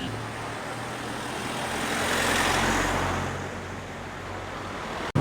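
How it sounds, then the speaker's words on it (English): Steady wash of street traffic on a slightly bigger city road, with engines and tyre rumble rolling past at moderate distance; no distinct horn blasts stand out. "there's a little bit more sound, more horn and stuff, more traffic"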